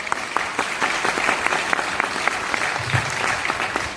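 A large audience at a motivational mindset seminar claps together in dense, steady applause lasting the full stretch, loud and close with no break.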